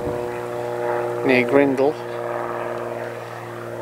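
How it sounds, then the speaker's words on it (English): Propeller aircraft from a parachute training centre droning overhead near a coastline, a steady low engine hum throughout with a person speaking briefly over it. "That's the parachute plane from the parachute training centre"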